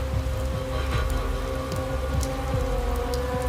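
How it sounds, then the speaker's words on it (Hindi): Steady, heavy rain falls continuously, a dense wash of patter with a low constant rumble underneath. "बाहर अभी भी बारिश हो रही थी।"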